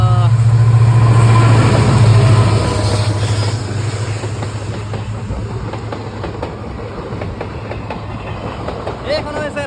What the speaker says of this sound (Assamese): এইখন হৈছে ডেকাৰগাঁৱৰ পৰা অহা ট্ৰেইন